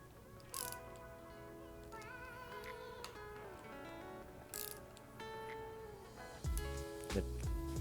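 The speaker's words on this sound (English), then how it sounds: "Be sure to use a torque wrench to tighten to the recommended torque spec." Torque wrench tightening bolts on an electric bike suspension fork, with intermittent close ratcheting clicks and metallic tool contact over a quiet background, ending in a few louder clunks.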